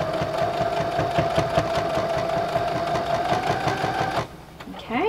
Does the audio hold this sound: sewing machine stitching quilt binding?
yes